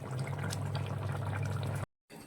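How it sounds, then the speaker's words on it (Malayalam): First-press coconut milk poured into a simmering homemade chicken stew, a steady liquid pour running close and evenly for nearly two seconds before stopping abruptly. "നമ്മൾ ഒന്നാം പാലും കൂടി എടുത്ത് ഒഴിച്ച് ഇറക്കിയാൽ മതി"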